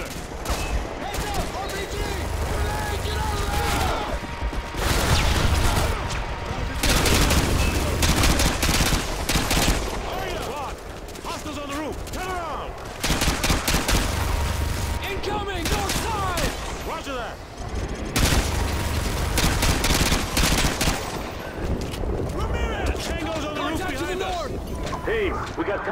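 Sustained gunfire from Call of Duty: Modern Warfare 2, with dense bursts of automatic weapons and occasional blasts across the whole stretch, loud and continuous, with radio-style squad voices calling out over the shooting.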